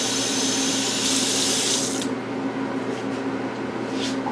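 Tap water gushes steadily into a kitchen pot for a roux-based gravy, loud and close, then cuts off halfway, leaving a faint hum.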